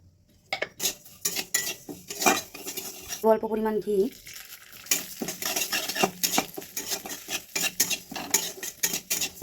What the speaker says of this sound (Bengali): প্রথমে মুগের ডালটা ভেজে নিয়েছি নিব অল্প পরিমাণ গোবিন্দভোগ চাল এটাও ভেজে নিব ভালো করে